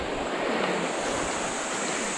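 River running high and swollen after rain, a steady broad rushing roar of water, close and continuous with no talking.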